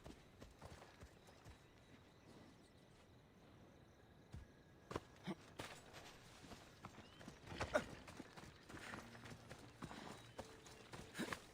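Horse hooves clip-clop in Assassin's Creed Odyssey, quiet at first, then growing into a faint, irregular trot with occasional louder thuds, with no talking over it.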